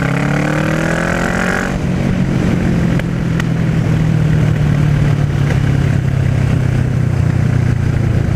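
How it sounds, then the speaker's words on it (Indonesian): Kawasaki ER6N scrambler motorcycle with a modified exhaust, loud and close, engine revving high, then dropping to a rough, sustained low rumble with crackling pops from the exhaust. "lu tarik, abis itu nggak lu ganti gigi dan dia turun sendiri RPM-nya, dia RPM tinggi ya, itu knalpotnya meledak-ledak cuy"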